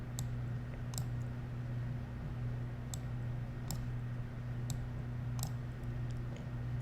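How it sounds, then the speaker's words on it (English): Faint, sparse mouse clicks at a computer while working with the transparency tool in CorelDraw, a few isolated ticks spread over a steady low hum, with no talk. "I click on transparency tool, and I click and then drag going there"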